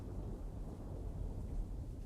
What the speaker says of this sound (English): Mm, sorry, the thunder.